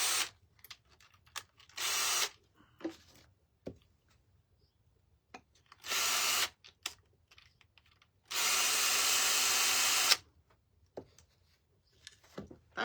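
A power drill whirs in short bursts, three separate runs with the longest near the end, broken by quiet pauses and small handling clicks.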